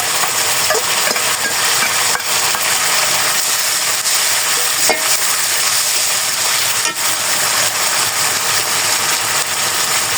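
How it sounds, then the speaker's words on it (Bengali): Masala spice paste being fried in a pan for stuffed potatoes gives a loud, steady, close hiss and sizzle, broken by a few faint clicks, with no one talking. "তো এই যে মশলা কষানো প্রায় হয়ে গেছে"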